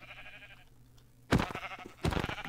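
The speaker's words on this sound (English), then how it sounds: "this sheep here seemed vulnerable" Sheep bleating in the Minecraft video game, two loud close bleats about a second apart over a quiet background.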